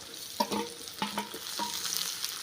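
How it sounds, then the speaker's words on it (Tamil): Onion, garlic and tomato sauté in hot oil, a soft sizzle beneath several quick spatula scrapes spaced roughly half a second apart. "எல்லாத்தையும் இப்போ நல்லா எண்ணெயிலே வதக்கி விட்டுடலாம்."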